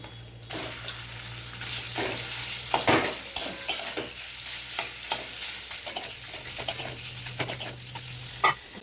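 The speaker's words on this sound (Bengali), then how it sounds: "সামান্য একটু আদা রসুন বাটা দিয়ে একটু নাড়াচাড়া করে নিয়ে এইবারে চিকেনের টুকরোগুলো দেব" Chicken pieces frying in a pan with ginger garlic paste, a continuous close sizzle broken by repeated scraping stirs and spatula knocks, with faint bird calls in the background.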